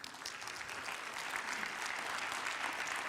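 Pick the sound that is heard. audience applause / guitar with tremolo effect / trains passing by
audience applause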